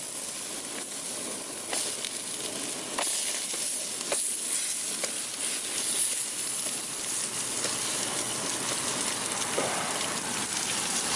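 Jerk chicken sizzles on a grill in a steady, hissing crackle, with occasional sharper pops and spits throughout and no voices.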